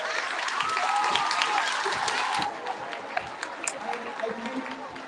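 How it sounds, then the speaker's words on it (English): A room full of people applauding at a middle school awards ceremony, dense clapping that is strongest at first, then thins into scattered claps amid faint voices. "one more round of applause"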